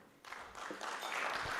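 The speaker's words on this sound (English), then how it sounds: "Another round of applause for all of them." Audience applause at a celebration marking ten years of a cancer advocacy organization in Kenya, a steady wash of clapping that starts abruptly and swells, with no talk over it.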